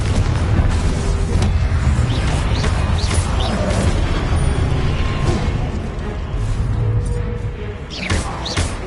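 Repeated Confringo blasting spell explosions in Hogwarts Legacy, loud booming rumbles and crashes layered over one another in a continuous, heavy barrage.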